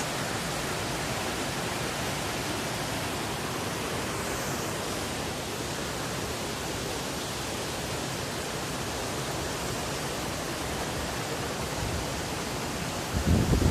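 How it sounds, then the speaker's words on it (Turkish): Katmer Waterfall on Ayı Deresi in the Kazdağı mountains: a constant, even rushing roar of falling water that fills the whole stretch without pause, with no voices. "bu müthiş bir şelale, Katmer Şelalesi diyebiliriz."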